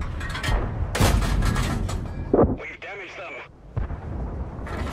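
Tank cannon fire and explosions from the World of Tanks video game boom and rumble beneath a voice, with a heavy blast partway through and game sounds continuing around the talk.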